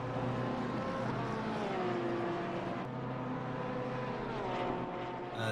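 Race car engines in a racing sim at Misano, a steady sustained drone with shifting engine tones that runs loud and unbroken throughout.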